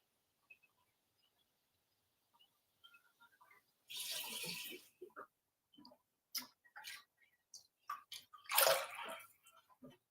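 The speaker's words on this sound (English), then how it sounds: "so we're gonna do at least 2 jars of water. This is a 24-ounce jar" Water is poured from a 24-ounce jar into a soup pot of lasagna soup in two short splashing bursts, with clinks and small kitchen knocks between them, close and otherwise quiet.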